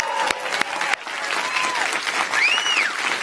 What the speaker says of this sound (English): Let's give a round of applause here online.